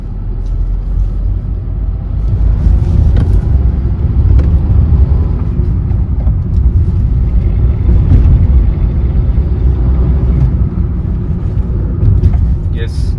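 Tata Altroz XZ Plus hatchback driven on the road during a braking check, heard from inside as a steady low engine and road rumble with a loud, even level throughout.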